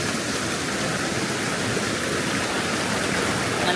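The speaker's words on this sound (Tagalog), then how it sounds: "malakas yung agos" A strong river current rushes in a dense, loud, unbroken roar of churning water, close by and steady with no pauses.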